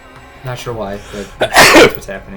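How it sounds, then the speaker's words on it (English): A single sharp, loud real sneeze bursts out just after a person speaks a short sentence, with talking leading into it. "Oh, that was a real sneeze"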